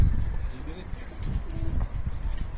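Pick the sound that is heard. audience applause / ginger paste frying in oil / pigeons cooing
pigeons cooing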